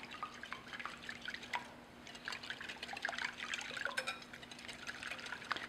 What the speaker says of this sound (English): I'm just going to use a wire whisk to blend all these together